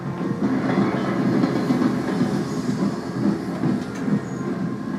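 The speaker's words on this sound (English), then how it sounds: "Truman's campaign train pulls out of Union Station." A 1948 campaign train pulls out of Union Station, rumbling steadily with rhythmic clanking of wheels on rails and occasional metallic squeals, loud and continuous throughout.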